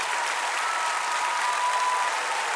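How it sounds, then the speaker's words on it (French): A television studio audience on a French music show applauds steadily, an even, bright wash of many hands clapping with a faint tone running underneath and no speech. "Applaudissements pour Michel"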